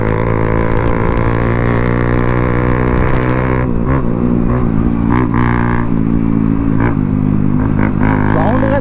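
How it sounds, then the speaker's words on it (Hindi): Motorcycle fitted with an Akrapovic exhaust, idling and revving loudly up close, with a steady harmonic engine drone and short throttle blips and crackles near the end. "साउंड का तो दीवाना हो गया भाई मैं, छन छन कर रही है भाई बाइक"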